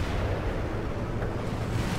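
A tank shell ricochets off armour in World of Tanks, the IS-3 taking the hit, heard as a dull low rumbling impact that blends into continuous battle noise, with no voices.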